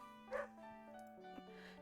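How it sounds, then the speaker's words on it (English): Dogs bark and whine faintly in the background behind soft, sustained musical tones in a quiet indoor setting. "I really hope you can't hear the dogs in the background."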